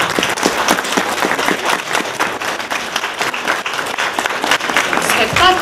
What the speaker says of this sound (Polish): Wielkie brawa Teatr Wrzosy i Schola.